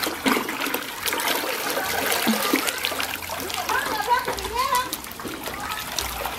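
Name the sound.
water splashing during a bath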